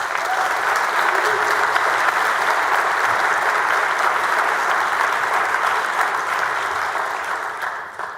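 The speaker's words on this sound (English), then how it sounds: "Let's give them a round of applause." Strong applause fills the Texas Senate chamber at the opening of the legislative session, a broad, even roar of clapping held for several seconds before easing off.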